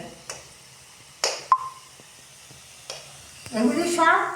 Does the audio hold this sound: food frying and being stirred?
yes